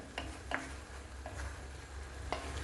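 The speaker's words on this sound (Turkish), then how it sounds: "kavrulma işlemine devam ediyorum. Şimdi bir küçük göze alıyorum. Mantarlar suyunu salmaya başladı." Mushrooms sauté in a pan for a chicken mushroom dish, releasing their juices with a soft, steady sizzle and a few light stirring taps, faint and close.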